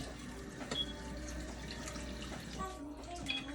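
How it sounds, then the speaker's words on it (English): Cooked hamburger meat is rinsed under a running kitchen tap, a soft continuous splash and trickle of water with small clinks, fairly quiet and close. "I'm gonna rinse my meat"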